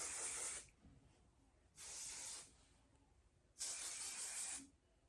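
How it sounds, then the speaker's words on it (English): Bedhead shine spray hisses onto hair in three short, soft bursts, each about a second long and separated by brief quiet pauses, close by in a quiet room. "Now I am just gonna go in with my shine spray."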